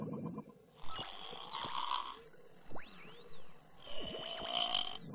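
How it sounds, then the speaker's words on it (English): Underwater recording of an elephant seal snoring: deep, gurgling snore-like grunts and rumbles in irregular bursts, with swooping whistle-like tones between them. "That's just an elephant seal snoring."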